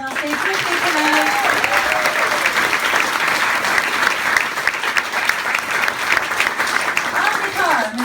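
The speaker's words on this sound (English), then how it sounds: "a round of applause for these two incredible musicians on stage with me tonight" A nightclub cabaret audience applauds two musicians on stage, a guitarist and a pianist, with steady, dense clapping sustained throughout, and a voice speaking briefly over it at the start and end.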